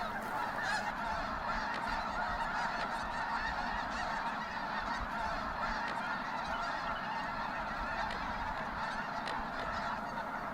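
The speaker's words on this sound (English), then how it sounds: "There's a lot of snow geese here right now" A dense, continuous chorus of snow geese honking at a wildlife refuge, many birds calling over one another at once, loud and steady throughout with no pauses.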